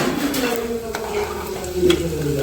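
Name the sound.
chana dal and peanuts frying in oil until reddish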